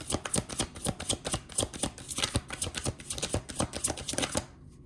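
Tarot cards being riffled and shuffled close up in a rapid, even run of crisp flapping bursts that stops abruptly near the end.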